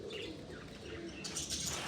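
A pigeon settling onto a perch with a brief flurry of wingbeats and soft bird calls, close by over a steady outdoor background, the flapping rising near the end.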